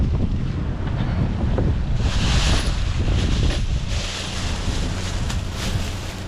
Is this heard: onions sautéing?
no